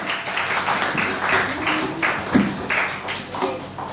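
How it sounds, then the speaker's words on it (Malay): Audience applause at a school event, a moderate round of clapping that stays fairly steady for a few seconds before tapering slightly, with a faint voice underneath. "Silakan tepukan."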